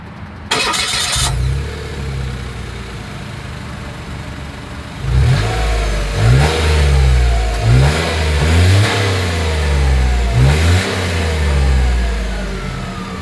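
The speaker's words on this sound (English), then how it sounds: "As always, here is that exhaust clip." A 2024 Mitsubishi Mirage G4 engine starts, then revs repeatedly in loud bursts, each rising and falling, with a rumbling exhaust between revs.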